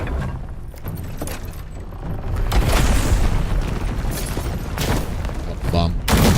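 A bomb explodes in the video game Khazan: a loud, sustained roaring blast with dense rumble and crackle that swells and stays heavy for several seconds, close and overwhelming.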